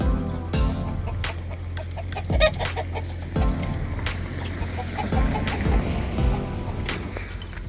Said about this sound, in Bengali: এখানে আছে মুরগি আছে দেশের মতো এই মুরগি